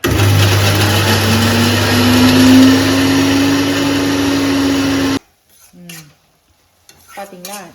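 A mixer grinder grinding coconut with fennel runs loud and close for about five seconds, its steady whine rising slightly in pitch, then stops abruptly, followed by someone talking.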